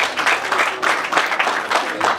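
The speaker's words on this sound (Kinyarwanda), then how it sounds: "Amashyi menshi umwuka byaramwe." Applause from guests at a Rwandan wedding ceremony, a dense, steady wash of many hands clapping at once that swells slightly in bursts and runs unbroken throughout.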